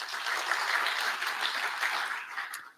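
A conference audience at PGDay Lowlands 2025 applauds a sponsor with dense, steady clapping that holds for a couple of seconds before tapering off.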